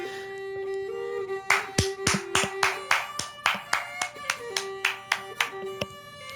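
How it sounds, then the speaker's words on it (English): A single pair of hands claps about fourteen times in a steady, sharp rhythm, close and loud, over a sustained musical tone and quieter background sounds. "Clap it up. Clap it up."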